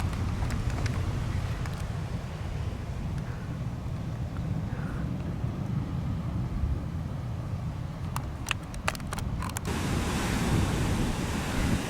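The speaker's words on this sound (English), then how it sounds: "The waves are so strong here that they go clasping all over these rocks." Strong ocean surf crashes over sharp rocks on a Christmas Island shoreline, a continuous loud wash of waves with wind buffeting the microphone and a few sharp crackles near the end.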